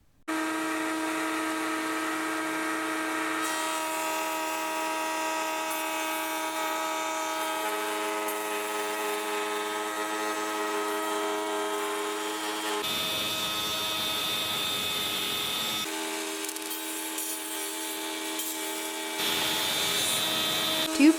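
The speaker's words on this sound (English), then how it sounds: "this process is done on the router table using a 13mm straight bit" Router table fitted with a 13mm straight bit and an offset shim squares the edge of a live-edge wood slab, giving a loud, steady whining motor drone with a shifting tone as the cut changes, running alone for about twenty seconds.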